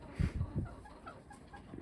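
A few short, low clucks from backyard chickens near an electric fence, quick soft pulses early on, then fainter chatter trailing off outdoors.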